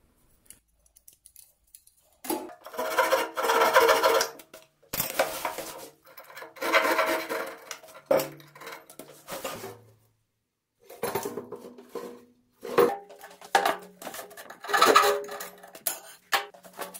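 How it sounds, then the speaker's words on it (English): Folding handsaw cutting through leftover wood sticks, several bursts of rasping back-and-forth sawing strokes separated by short pauses, close and moderately loud. "I cut the wood stick leftovers with my folding handsaw"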